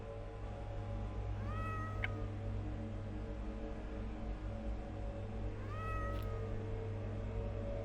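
A cat in The Excavation of Hob's Barrow adventure game meows twice, rising plaintive calls several seconds apart over a steady low background hum.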